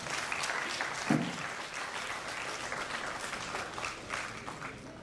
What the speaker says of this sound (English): join me in welcoming our honorable guest with a big round of applause.